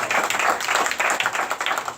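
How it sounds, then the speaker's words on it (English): An audience at an academy event claps for a councilman, a dense, steady round of applause from many hands heard at moderate distance. "Let's give him a round of applause."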